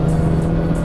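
A Citroen AX GTI engine runs steadily while driving, a loud, close, continuous drone inside the car with no talk.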